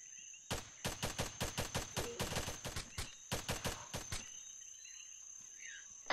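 Rapid bursts of gunfire in an Arma tactical firefight, about twenty sharp reports in quick, uneven succession that stop abruptly, then a quieter tail of ambient hiss with a faint distant crack at the end.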